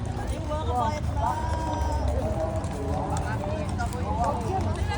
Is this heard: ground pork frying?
no